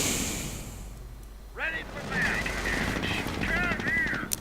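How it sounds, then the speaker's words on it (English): Calliope rocket artillery bombarding troops near a victory point in a World War II strategy game, a dense volley of rapid whooshing launches and blasts that swells after a short quieter stretch, with a voice talking over it. "Calliope is bombarding the troops right next to the victory point"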